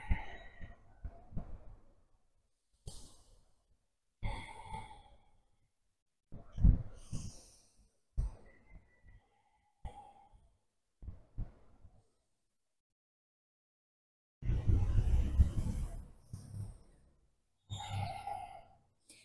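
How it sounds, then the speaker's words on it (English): Slow, deep breathing while holding yoga chair pose in a balance class: separate inhales and exhales, some breathy and wheezing, spaced by quiet gaps, close and fairly soft. "And take several more deep breaths here."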